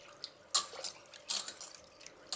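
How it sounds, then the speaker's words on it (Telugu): Water poured into a pressure cooker holding rice and lentils comes in faint, short splashing bursts and drips, separated by quiet gaps. "4 కప్పులు నీళ్ళు పెడుతున్నానండి"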